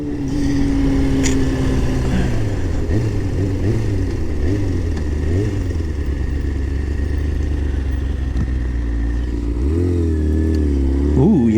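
A motorcycle accelerates on a ride, its engine rumbling loud and close with rising and falling revs through several gear changes and a steady roar throughout.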